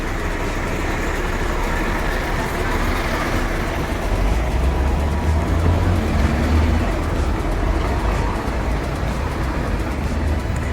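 A city bus rolls past on a street in Newmarket, Auckland, its steady low engine rumble and road noise filling the scene at close range without any break.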